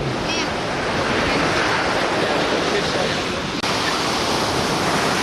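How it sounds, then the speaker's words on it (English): Surf washing onto a beach on the southern coast of Cambodia, a loud continuous roar of breaking waves heavy with wind rush, with a voice faintly beneath. "on the southern coast of Cambodia, and you can here see the rest of the beach down here, which is quite nice."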